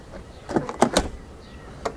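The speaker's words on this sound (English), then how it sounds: "See, this door activates, so the pump is not burnt yet, but it does not deactivate." Door self-closing pump on a 1996 Mercedes S420 pulling a door shut, heard as a few short whirring, clunking bursts close by, then a small click after a pause.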